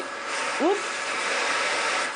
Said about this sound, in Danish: det er selvfølgelig støvsugeren